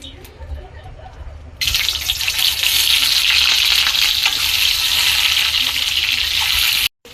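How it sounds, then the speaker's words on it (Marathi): Eggs frying in a hot pan for egg curry, a loud steady sizzle that bursts in suddenly and crackles continuously up close before cutting off abruptly. "अंडे फ्राय करून घेणार."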